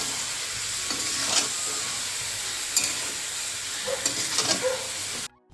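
Mutton pieces frying in a pan, a close steady sizzle with occasional louder bursts as the meat is stirred, no voices present.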